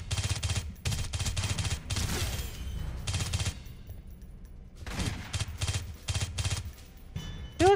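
Video-game firearms let off repeated bursts of rapid automatic fire, loud and close, in several clusters separated by short pauses.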